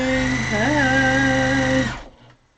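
A sewing machine runs steadily while stitching a quilt-as-you-go block, a sustained motor whine with slight pitch dips, close and loud, stopping abruptly near the end.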